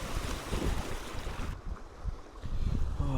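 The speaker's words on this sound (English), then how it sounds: "The lake has unfortunately turned very wavy" Waves slosh and lap on a wind-whipped lake at night while wind buffets the microphone in loud uneven gusts. Near the end there is a short spell of calmer water.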